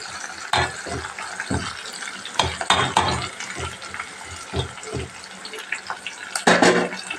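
Dried red chillies cut into pieces and frying in a pan with onions and garlic, heard as a close bubbling sizzle broken by repeated stirring clatters and scrapes, with no voices.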